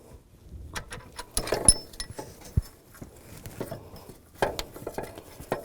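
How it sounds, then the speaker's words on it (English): Metallic clinks, taps and scrapes come from a bolt being pulled out while removing the alternator on a 2005-15 Nissan Xterra, close and fairly quiet, with irregular bursts and no talking. "Just grab the alternator underneath, pull the bolt out."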